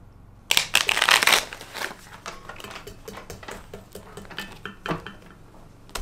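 A deck of playing cards riffle-shuffled close up: one dense, papery burst lasting about a second, then scattered light taps and clicks as the cards are squared and handled, with no voices.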